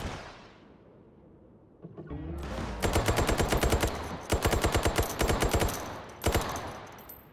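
Rapid bursts of automatic gunfire from a gun in the VR shooter Hot Dogs, Horseshoes & Hand Grenades, loud and close, coming in three separate strings of quick shots after a quieter lead-in with some rustling.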